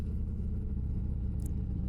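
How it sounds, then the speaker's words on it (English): Gas station traffic: a steady low rumble of car engines idling and passing, continuous and moderately close, with no voices. "watching this gas station traffic to see what's going on"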